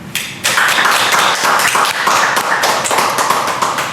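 A Korean church congregation breaks into loud, crisp clapping in praise to God, starting abruptly and continuing as dense, close applause with distinct sharp hand strikes for several seconds.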